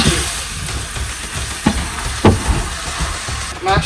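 Minced meat sizzling steadily in a hot pan as it is mashed for a Nigerian meat pie filling, a continuous close frying hiss with a few soft scraping knocks from the utensil.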